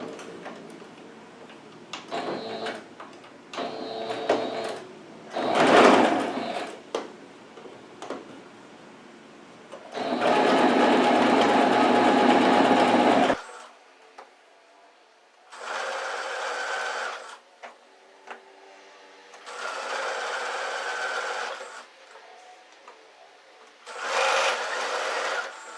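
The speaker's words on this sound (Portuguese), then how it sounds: "vamos passar uma costura" A sewing machine stitches a seam along the folded edge of a dish towel in several loud bursts of rapid whirring, separated by quiet pauses and light handling clicks.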